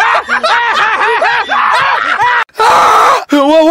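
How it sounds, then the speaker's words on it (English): A person screams and wails loudly in short, wavering bursts with groaning, laugh-like pulses, broken by brief pauses, close and intense. "I just like screaming."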